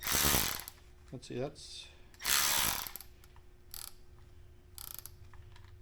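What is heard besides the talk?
ratchet wrench turning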